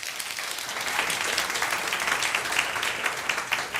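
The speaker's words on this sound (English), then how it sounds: "And I appreciate the applause" Audience applause fills a church service, a steady wash of many hands clapping at moderate distance, continuing evenly without voices.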